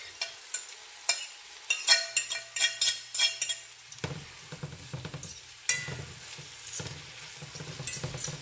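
Jamaican saltfish for ackee and saltfish, stirred in a frying pan: a soft sizzle under repeated scraping and clinking of a utensil against the pan, with a low hum joining partway through.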